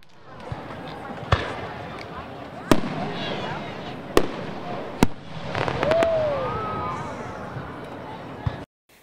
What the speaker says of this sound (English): the first rocket was finally launched over the high school baseball field.